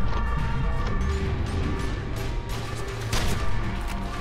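A heavy, continuous low rumble of an earthquake in the F.E.A.R. 2 video game, overlaid with crashes and debris-like impacts, loud and sustained throughout.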